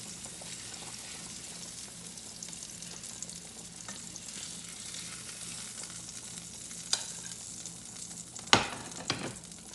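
Tilapia fries in a pan with a steady close sizzle, joined near the end by a few sharp utensil clinks and scrapes.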